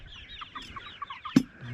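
Pastured laying hens being moved to a Richard Perkins style coop on a morning in Lassen County cluck softly in a steady run of short murmurs, with one sharp knock near the end.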